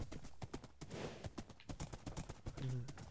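Horse hooves gallop in the Minecraft video game, a quick, faint clip-clop patter running throughout, with a short whinny-like sound near the end.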